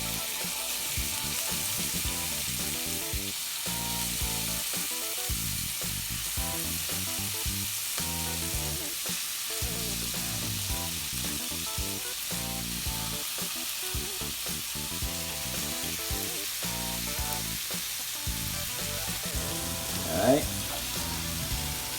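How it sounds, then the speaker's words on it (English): Food sizzles and crackles steadily in a hot pan, with occasional stirring and a brief voice near the end. "the pan has to be really hot so you can hear the sizzling"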